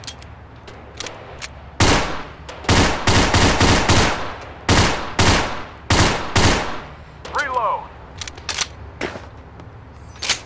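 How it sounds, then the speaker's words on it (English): Bursts of machine gun fire in a VR shooting game crack loudly in quick staccato volleys with short gaps between them, followed by scattered single shots and a brief whooshing sweep. "Give me my gun!"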